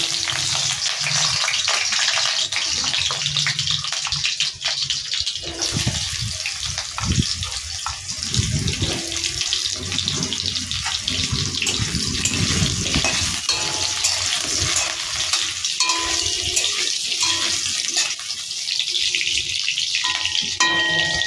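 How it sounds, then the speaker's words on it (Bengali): Potatoes dropped into hot oil for keema khichuri, frying with a loud, continuous bubbling sizzle that stays close and steady for the whole stretch, with occasional stirring movement. "তেল গরম হয়ে গেছে, এবারে আলুগুলো ছেড়ে দেবো।"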